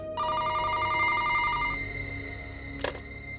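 A telephone rings late at night in a quiet room, a repeating electronic trill over a faint steady hum, followed by a brief sharp click as the ringing stops.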